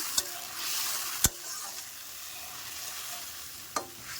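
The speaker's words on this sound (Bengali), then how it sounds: "হলুদ গুঁড়োটা দিয়েও আমি ভালো করে নেড়ে চেড়ে নেব।" Snakehead fish curry with turmeric powder being stirred in a hot pan for a sour lemon-flavoured dish: a steady close frying hiss broken by three sharp spoon clicks against the pan.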